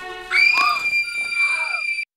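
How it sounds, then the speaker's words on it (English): A woman's piercing scream from the horror film Orphan: one long, shrill, sustained shriek lasting about two seconds, loud and close, then cut off abruptly into silence. "It's quite the scream, man."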